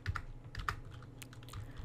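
Quiet, irregular clicks of fingers typing on a computer keyboard while writing code, close but soft, with uneven bursts of keystrokes and no speech.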